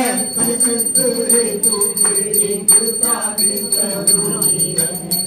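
Bells ring steadily and continuously through a Hindu aarti devotional song to Lord Ganesh, layered under loud singing voices and accompanying music.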